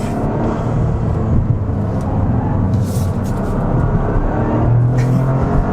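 A 2023 Toyota GR Corolla with all-wheel drive and a manual gearbox drives an autocross loop, its engine and road noise a loud, steady rumble that holds for several seconds with no voices.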